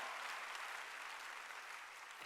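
Brief, even applause from a church congregation during a Sunday worship service, a dense hiss of many hands clapping at once, fairly distant and steady throughout.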